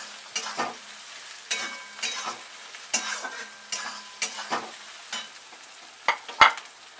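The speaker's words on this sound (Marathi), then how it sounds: "आता हे असं चांगलं भाजून घ्यायचं।" Ginger and garlic paste sizzles and fries in a pan, with repeated stirring strokes scraping through it in an uneven rhythm, close and fairly loud with no talking.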